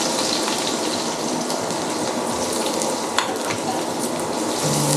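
Onions fry in hot mustard oil with green chillies, giving a loud, dense, steady sizzle and crackle up close, with one brief clink partway through and no voices.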